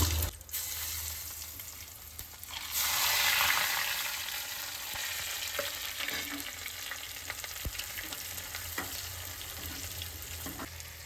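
Mustard seeds and dried chillies frying in hot oil for a curry tempering, a steady close crackling sizzle with a louder burst early on, then continuing popping and spitting with no talk.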